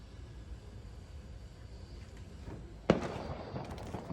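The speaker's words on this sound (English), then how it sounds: "Get all the fireworks going off." Fireworks go off over a 4th of July weekend, heard at a distance. A quiet outdoor backdrop is broken by one sharp bang, followed by a few fainter crackles and pops.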